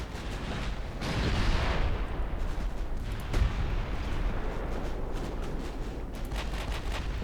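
Warship guns firing high-explosive shells in Ultimate Admiral Dreadnoughts produce continuous rumbling naval gunfire, with heavy booms and a sharp blast standing out over a dense, steady roar.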